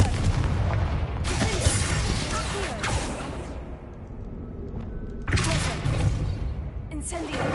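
The Confringo explosive spell in the video game Hogwarts Legacy blasts loudly, with heavy booming bursts and whooshing impacts stacked over continuous game noise and a voice.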